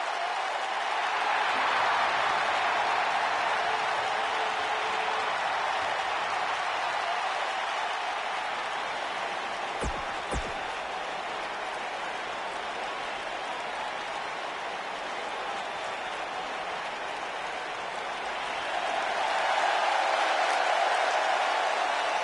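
A WWE video game arena crowd cheers and applauds in a continuous broad roar, swelling again near the end, with a commentator talking over it.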